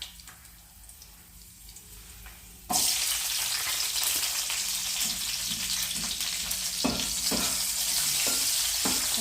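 Chilies hit hot oil in a pan and burst into loud, steady sizzling frying after a quieter opening, with several sharp pops and crackles scattered through the continuous hiss.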